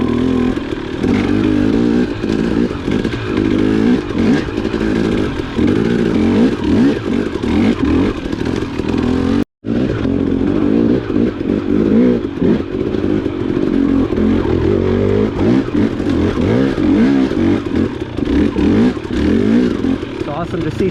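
An off-road motorcycle rides along dry, sunny trails with its engine droning and revving continuously. A brief dropout breaks the sound midway, and a voice is heard over the machine.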